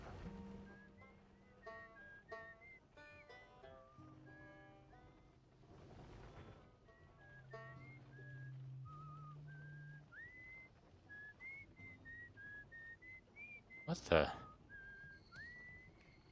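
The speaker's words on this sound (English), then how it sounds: "Who's whistling?" Whistled melody with sliding pitches drifting through a calm scene in the space-exploration game Outer Wilds, heard among soft instrumental music, with a short burst of noise near the end and a voice briefly exclaiming.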